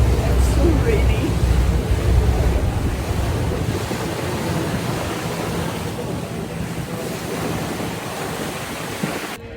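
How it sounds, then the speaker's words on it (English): Steady wind and rain buffet an Istanbul ferry crossing toward Karaköy, a dense, continuous roar of gusts and surf-like wash that fades slightly partway through, with no clear voices. "the rain began to soften, but it was still very wet and very windy"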